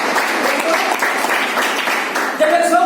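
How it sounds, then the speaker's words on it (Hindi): Applause from attendees at a business promotion meeting, a steady patter of clapping hands through the whole stretch, with a voice and faint tonal sounds rising near the end. "एक बार तालियां तो बनता है दोस्तों।"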